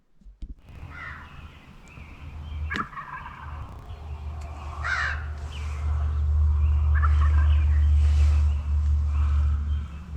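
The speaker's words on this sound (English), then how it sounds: "they definitely make sure that they gobble plenty of times on the way there" Wild turkey jakes gobbling in Michigan woods on a spring morning: several rattling gobbles at moderate distance over a low rumbling background, with a sharp snap early on.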